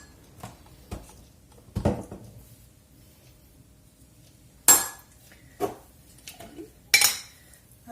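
A small spoon clinks and scrapes against a jar while scooping mustard, with a few sharp, bright metallic taps scattered among softer knocks and quiet gaps between them.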